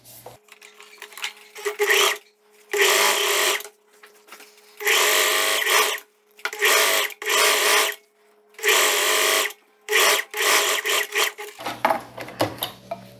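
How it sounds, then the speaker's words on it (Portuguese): A sewing machine stitches a strap of viscose fabric for a loose dress, running in repeated loud bursts of about a second each, separated by short pauses, close up and without talk. "As alcinhas eu vou fechar aqui a tira, dobrando assim, ó, direito com direito, e vou passar a costura"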